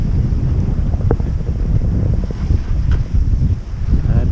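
A sailboat beats to windward into short, choppy waves. Steady wind buffets the microphone throughout, with a dense low rumble of water and hull slapping and no voices.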